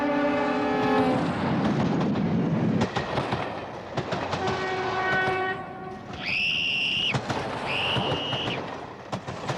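A train rumbles past with steady clickety-clack under a loud, sustained horn, then two high shrill whistle blasts ring out near the end, from a 1970s British public information film.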